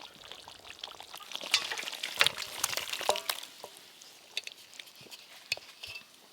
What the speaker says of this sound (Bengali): জামাই ষষ্ঠী স্পেশাল চিকেন কোরমা হয়ে গেল, এবার ঢেলে নেব